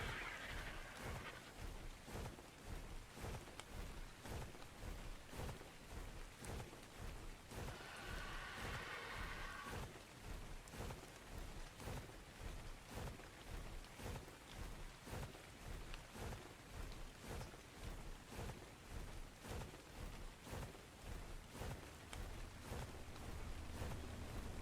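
Rain falls on the desert map of the survival game Ark: Scorched Earth, a steady hiss of rainfall with regular soft pulsing thumps beneath it and a brief brighter splash partway through.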